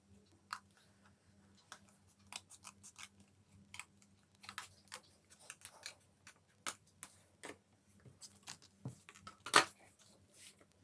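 Scissors snip through paper to cut out rings for Saturn and Uranus in a kids' solar system craft, making a string of quiet, irregular close-up clicks and snips alone in a still room.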